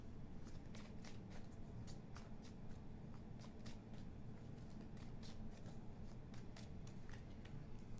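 Tarot cards shuffled in a card-reading session, a steady run of quick, crisp riffling flicks, close and fairly quiet over a low hum, with no speech.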